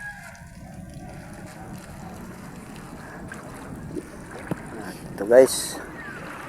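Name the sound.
bangka boat on water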